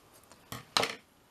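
Scissors snip through seam binding ribbon while sewing a small ballerina dress, two quick close cuts in a quiet room.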